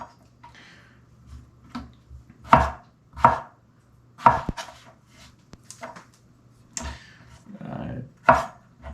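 A knife chopping through potatoes on a cutting board for grilled French fries: sharp, separate thuds at an uneven pace, close and fairly loud against a quiet background, with no speech.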